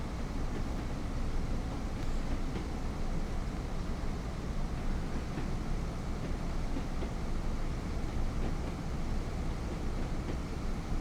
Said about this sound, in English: Because the train sounds good.